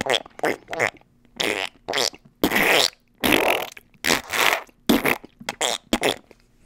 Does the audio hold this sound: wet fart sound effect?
yes